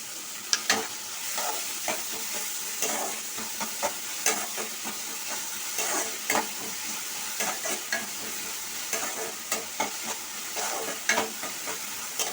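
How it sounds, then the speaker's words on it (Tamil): Onions for kothu parotta frying on a high flame, a continuous bright sizzle with rhythmic spatula scrapes and stirring strokes every second or so, close and moderately loud, no speech. "வெங்காயம் பாருங்க நல்லா பொன்னிறமா வதங்கிடுச்சு"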